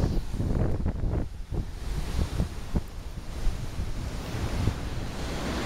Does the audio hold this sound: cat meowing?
no